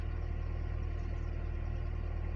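A Mercedes-Benz CLK 230 Kompressor with the M111 engine and an idle fault idles steadily, a close continuous low rumble with an even pulsing hum and no voices.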